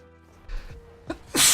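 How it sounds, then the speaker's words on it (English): One close, loud human sneeze, starting with a couple of quick breaths and ending in a sharp, explosive burst, with no talking. "Big sneeze."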